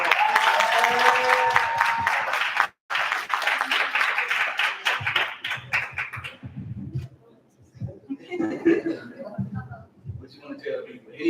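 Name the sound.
audience applause at an awards show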